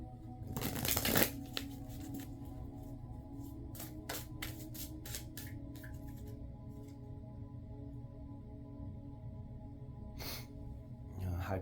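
Tarot cards being shuffled and drawn, a brisk riffling burst near the start followed by a series of sharp, close card snaps and flicks spaced over quiet room tone, with another crisp flutter near the end.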